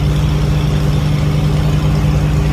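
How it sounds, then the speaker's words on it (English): Ferrari FF engine at a rally event on a racing school track, a loud close deep steady hum that holds constant throughout with no voices. "That FF sounds so good."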